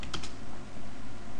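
Computer keyboard typing while entering keywords into a Perl script, a few quick close keystrokes over a steady hiss of background noise, with no talking.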